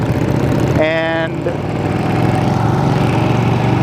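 A Ducati 959 Panigale motorcycle engine idles steadily in traffic after a highway ride, a constant close rumble running the whole time, with a brief tonal whine near the start and a single spoken word.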